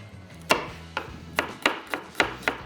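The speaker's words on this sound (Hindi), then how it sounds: "मेरे पास यहाँ पे एक अदद प्याज पड़ा हुआ है, इसको मैं फ़ाइन चॉप करके" A whole onion is finely chopped with a knife on a cutting board in a kitchen while Hyderabadi shami kabab is being made. About seven sharp, close knocks of the blade come at an uneven pace against a quiet background.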